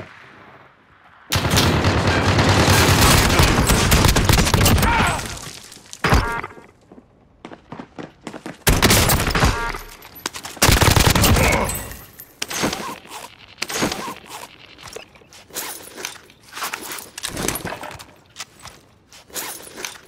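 Gunfire in the video game Warzone, with a long sustained burst of loud shots followed by scattered bursts and single cracks of varying loudness, with no talk heard over it.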